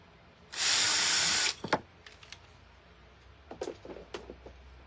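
A drill bores a hole in a woodblock, one loud continuous whirring burst of about a second, followed by a few sharp knocks and small handling clatters nearby.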